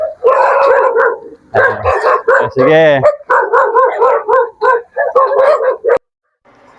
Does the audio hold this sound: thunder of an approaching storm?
no